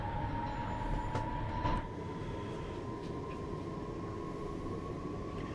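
Electric Frankfurt S-Bahn train departing in the video game Train Sim World 5, a steady rumbling hum with a faint rising motor whine, continuous and fairly close, with no voices over it.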